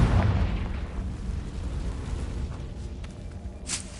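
In Hogwarts Legacy, a Confringo spell blast lands with a heavy, booming explosion that hits hard at the start and fades into a rumbling decay, followed by a faint high chime near the end.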